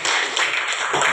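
Audience applause at an elementary school graduation and farewell ceremony for sixth-grade students, a dense, steady patter of many hands clapping that fills the whole brief moment at a fairly close, even level.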